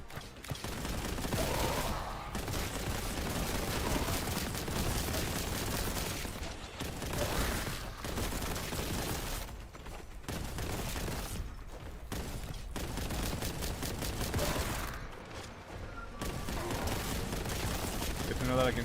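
Rapid gunfire in the video game Boltgun as demons are shot, a dense, loud barrage of weapon fire with mechanical clanks that runs almost nonstop, broken by a few short lulls.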